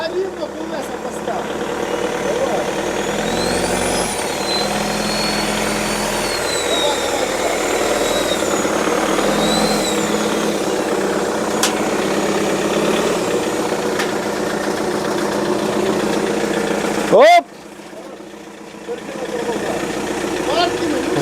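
A cheap, rusted-out old Renault car idles with a steady, loud drone at a dismantling yard while voices are heard, then the engine is switched off abruptly and the drone cuts out.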